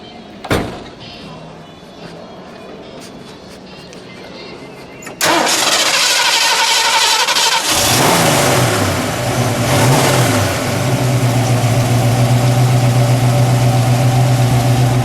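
A Ford 351 Windsor V8 in a 1969 Mercury Cyclone Spoiler cranks and catches at about five seconds, then settles into a loud, steady rumbling idle with a brief rev partway through.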